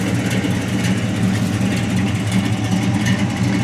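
A stunt Chevrolet Chevelle from the John Wick movie idles steadily up close, its engine a constant low rumble with no other sounds over it.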